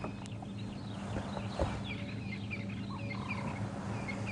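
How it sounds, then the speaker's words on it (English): Crested francolins calling during a morning game drive in the African bush, with repeated raspy bird calls in the mid distance over steady ambient birdsong and a low background hum, with no voices. "And like I said, crested francolins."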